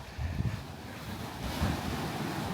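Surf washes onto a beach where the water has come up high, a soft continuous rush of waves mixed with wind buffeting the microphone, with no one speaking.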